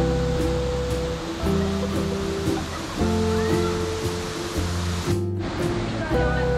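A waterfall on Siberut Island in the Mentawai Islands, where young people leap from the cliffs into its pool, gives a steady, dense roar of falling water that runs throughout beneath louder music.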